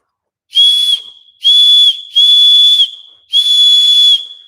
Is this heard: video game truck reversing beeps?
no